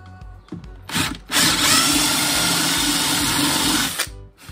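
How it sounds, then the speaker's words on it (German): A few short drill bursts give way to one sustained, whining drilling run with a 10 mm bit into 3D-printed PLA plastic, lasting a few seconds, loud and close. "Jetzt muss ich das Teil aufbohren."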